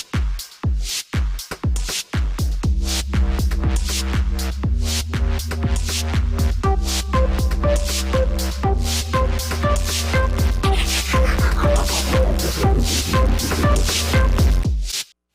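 Multitrack music builds in a digital audio workstation, with punchy drums and layered tones joined by a rising white-noise sweep and distortion on the drum track near the end, loud and continuous before an abrupt stop.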